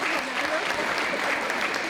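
Audience at a Miss Belle en Forme pageant event claps in a steady, dense burst for a workshop stand, moderately loud and continuous throughout.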